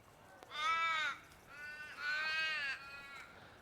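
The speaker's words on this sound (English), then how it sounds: "The birds are all out. You can hear them. There's crows up there in the trees." Crows caw several times in harsh, drawn-out calls from the trees at a resort in Connolly, Perth, Western Australia, two main bursts with shorter ones between, somewhat distant against a quiet background.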